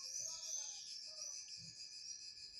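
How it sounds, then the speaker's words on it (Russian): Cicadas chirr steadily outside a church, a continuous high, bright drone filling the air, with a few faint bird calls and distant murmurs beneath it. "Слышите, как цикады, звук их, как они радуются."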